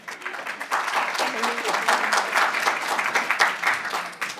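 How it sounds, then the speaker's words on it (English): An audience at an art history colloquium applauds a speaker, with steady, moderately loud clapping filling the room and a voice speaking briefly over it. "let's give a round of applause for Elaine"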